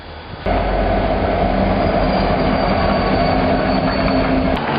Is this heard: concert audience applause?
no